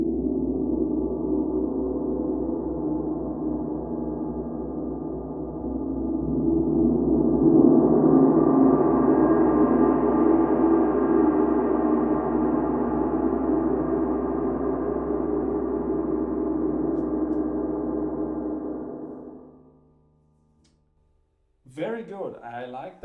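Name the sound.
40-inch Sela Loto series wind gong, biggest soft mallet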